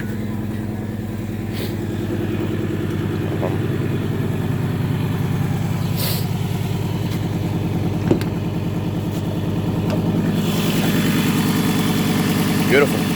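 A 1995 Acura TL engine idles steadily with a low, even rumble throughout, with a few faint clicks and brief knocks over it.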